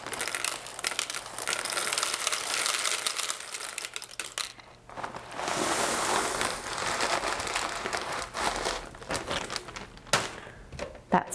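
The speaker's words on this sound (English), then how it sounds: "let's just do a little test and see how finely ground I can get this" Boxed mac and cheese pasta ground finely in a kitchen grinder, a harsh, crunchy crushing rattle that runs loud and close, pauses briefly, then resumes.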